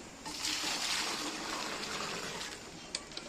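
A cow being milked by hand at a West Bengal home, milk streaming into a pail with a steady close hiss for a few seconds, followed by a couple of light knocks.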